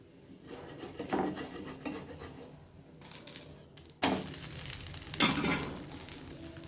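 A metal spatula scrapes and flips a poha-rava uttapam on a hot tawa, giving a few rasping scrapes and soft slaps over a steady low sizzle, close and clear.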